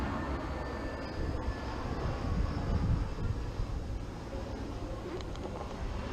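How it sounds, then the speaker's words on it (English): An airplane passes overhead as a steady low rumbling drone that swells slightly mid-clip and then fades, heard outdoors at a moderate distance. "Airplane."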